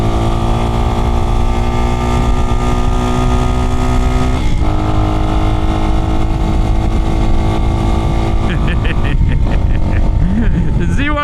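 A Chinese motorcycle engine held at full throttle in traffic, a loud, steady drone with a strong harmonic whine throughout, a brief dip near the middle, and passing traffic noise in the background.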